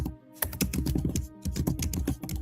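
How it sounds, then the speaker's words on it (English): Loud typing on a computer keyboard, a dense run of rapid clicking keystrokes that pauses briefly and then resumes, close and prominent with no talk. "can you mute yourself when you're typing? It's so very loud."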